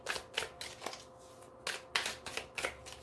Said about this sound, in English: Yeah, let's shuffle. Well, I never can shuffle these well.